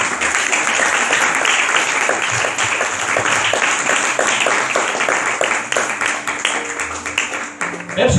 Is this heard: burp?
no